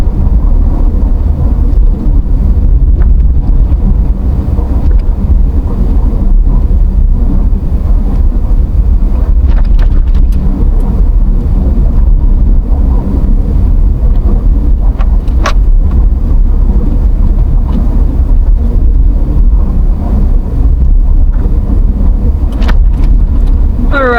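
A car drives steadily through a snowy night, its low road rumble and wind noise constant and close throughout, with a few faint clicks and no talking.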